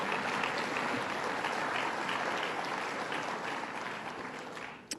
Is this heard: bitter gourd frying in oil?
no